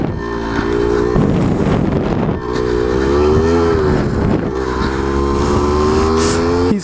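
Small Suzuki DS100 beginner dirt bike engine running steadily while being ridden, a loud continuous buzzing drone that rises and falls in pitch with throttle changes, close up with some wind noise.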